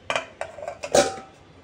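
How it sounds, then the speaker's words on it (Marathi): A lid clinks down onto a bowl of soaking jowar flour batter, giving a few light taps and then a firmer ringing clink that fades out. "असं आपण झाकण लावून आता हे ठेवून देऊया"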